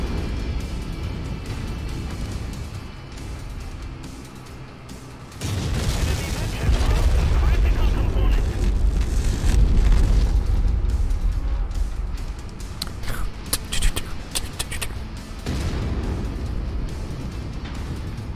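Missile fire and explosions in the MechWarrior 5 mech combat game, a dense run of booming blasts and rumbling impacts over about eighteen seconds, loudest in the middle, with talk mixed in.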